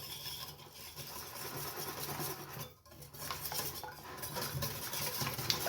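Crème caramel ingredients with a splash of liquid vanilla are stirred and mixed in a bowl, producing a continuous scraping, clinking swirl close by.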